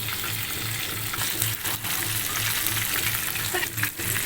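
Marinated chicken for tandoori, cooked without an oven or griller, fries in a pan with a steady, loud, dense sizzle throughout, without pause.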